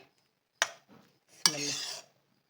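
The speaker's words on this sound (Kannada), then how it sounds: "ಇವಾಗ ಇದೆಲ್ಲ ಮಿಕ್ಸ್ ಮಾಡ್ಕೊಳ್ಳೋಣ ಚೆನ್ನಾಗಿ ಮಿಕ್ಸ್ ಮಾಡಿಕೊಂಡು" Spiced temple-style pulihora rice being mixed with a utensil, giving two brief scraping, clinking strokes against the vessel, the second followed by a longer rustling stir, close and fairly quiet.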